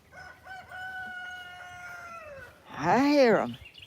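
A rooster crows once, loud and close, with a rising and falling harmonic call after a stretch of steady, quieter background tone, likely at a Georgia homestead.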